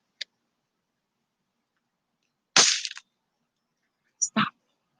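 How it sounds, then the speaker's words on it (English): Firecrackers popping in a few sharp isolated cracks, a tiny snap, then a louder burst with crackle and two quick pops near the end, separated by silence. "He's throwing firecrackers at me."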